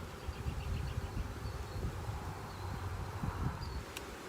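Honeybees humming around a crowded hive on the verge of swarming, a dense steady buzz close by with scattered individual bees passing, no talking.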